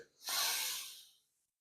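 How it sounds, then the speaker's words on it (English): A single deep breath drawn in slowly through the nose and mouth, yoga style: a close, airy inhale swelling over about a second and trailing off into silence. "So what I have done, I have taken in a deep breath."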